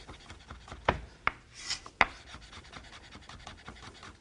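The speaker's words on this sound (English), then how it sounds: "So you want to mince this garlic up nice and thin." Knife mincing garlic on a board: a few crisp, separate taps and scraping strokes, close and fairly soft, with no talking.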